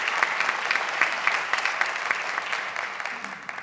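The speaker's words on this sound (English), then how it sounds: "could we get a round of applause for Taste Test, who catered our breakfast this morning?" A downtown business meeting audience claps for a breakfast caterer, a steady, moderate round of applause from a modest crowd, with no talking over it.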